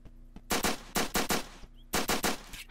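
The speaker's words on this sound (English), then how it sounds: "I hear the shots." Gunshots in the Roblox game Apocalypse Rising, quick paired bursts of automatic fire, loud and sharp with short gaps between them.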